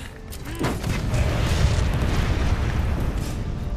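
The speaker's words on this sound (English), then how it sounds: "load up the thing and fire the cannon" Cannon fire in the video game Monster Hunter World during a fight against Zorah Magdaros, a deep booming blast that swells into a sustained rumbling roar lasting several seconds.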